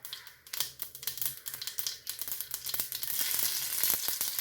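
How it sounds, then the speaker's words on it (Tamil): Mustard seeds crackle and pop in hot oil in a pan while jackfruit seed curry is cooked. Rapid, irregular pops build into a dense, steady spluttering sizzle close by. "கடுகு பொரிஞ்சிச்சு"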